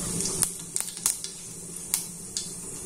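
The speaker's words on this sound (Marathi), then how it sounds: "तेल गरम झाल्यावर मी त्यात 1 चमचाभर मोहरी घालते" Mustard seeds and cumin sizzling in hot oil in a pan, a steady close crackle with sharp pops and spits scattered through it.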